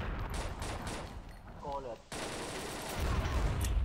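Bursts of rapid gunfire from the online shooter XSHOT, played in a bomb mode, crackle through the clip, pausing briefly midway before resuming with a player's voice underneath.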